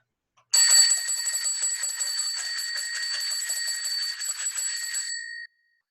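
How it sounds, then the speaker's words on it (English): A bicycle bell rings rapidly and continuously for about five seconds, a bright, loud metallic trill that starts abruptly and then stops, heard alone without any talk. "Do you think he's going to ring his bell a lot?"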